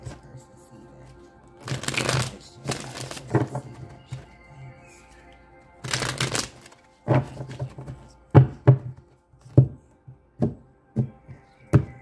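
Tarot cards are shuffled in several bursts of riffling, followed by a series of sharp taps and thumps as cards are drawn and placed. The sounds are close and moderately loud, with quiet gaps between them.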